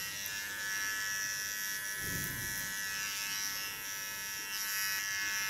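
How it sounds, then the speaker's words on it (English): A small Kione cordless electric hair clipper buzzes steadily at close range, a constant high-pitched motor whine with a brief denser patch as it cuts through short hair. "This small clipper is of Kione and comes with two blades."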